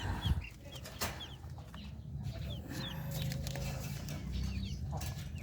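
Brahma chickens in a small backyard, scattered soft clucks and bird calls over a low background murmur, fairly faint and close.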